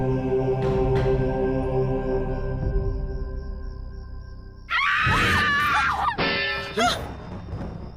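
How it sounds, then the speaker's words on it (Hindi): A sudden high, piercing scream bursts out loud midway through a dramatic Indian TV serial scene, following a steady low drone and preceding a second shrill cry, with no talking. "किसी की चीख की आवाज आई।"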